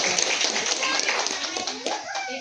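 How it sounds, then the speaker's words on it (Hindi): A crowd clapping at a retirement farewell ceremony, brisk and fairly loud, mixed with voices and background chatter throughout the short stretch. "एक बार फिर वीडियो साहब का जोरदार तालियों से"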